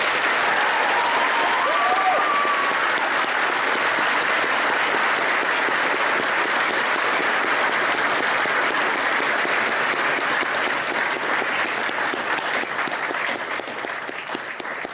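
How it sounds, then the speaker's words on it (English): Audience applause for school prefects at a senior prize-giving ceremony, sustained dense clapping from a large crowd that holds steady for about fifteen seconds before beginning to fade, with no talking over it. "if you can please give them a deserved round of applause"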